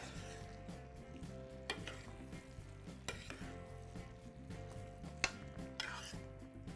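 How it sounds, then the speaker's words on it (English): Frozen peas being stirred into a simmering vegetable korma, with a spoon scraping and clinking against the pot over a low steady sizzle, close and fairly quiet, with a few sharper knocks. "Give that a good stir."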